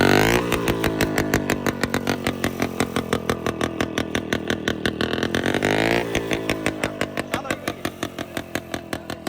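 A mini tractor's small engine chugs loudly up close in a fast, rhythmic putter, revving up and settling, with its pace shifting midway.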